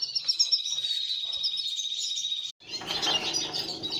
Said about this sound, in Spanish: Están siendo alimentados los pájaros, están criando pájaros de fauna.